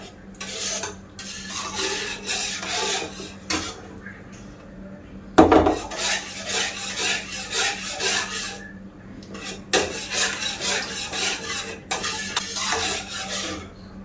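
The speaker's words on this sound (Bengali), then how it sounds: "দিয়ে এবার একটু নাড়তে থাকবো।" A spoon scrapes around a pot of liquid milk in repeated rasping strokes, close and steady, with brief pauses and one knock against the pot midway; no one speaks.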